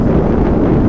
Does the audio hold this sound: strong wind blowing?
yes